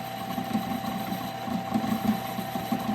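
A small machine makes the final machining pass on a sway bar bushing for a NASCAR Craftsman Truck build, a steady mechanical hum with a faint rhythmic chatter throughout, no talking.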